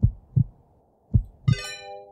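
Video game Clay-Scape heartbeat: four deep, thumping beats in a lub-dub pattern, two pairs separated by a short pause, loud and close, with a bright chiming tone rising over the last beat.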